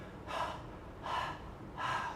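A voice imitates tired, breathy panting for the letter H sound: three evenly spaced, airy huffs, moderately quiet, with no other sound around them.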